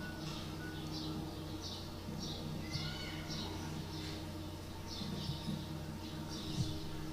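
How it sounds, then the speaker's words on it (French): Quiet public garden ambience: faint bird chirps repeat in short regular bursts over a soft, steady background hush, with a few sharper calls standing out. "Donc plutôt qualitatif, bruit d'oiseaux,"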